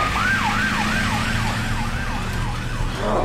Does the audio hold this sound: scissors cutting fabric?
no